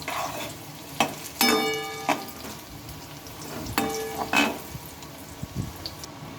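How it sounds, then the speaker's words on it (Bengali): Long beans frying in a pan, a soft oily sizzle with a few sharper scrapes and clatters as they are stirred, fairly quiet and close with no talking. "এইভাবে একটু মুখতে মুখতে আমি ভেজে নেব আর একটু বেশ লাল লাল করে ভেজে নিতে হবে"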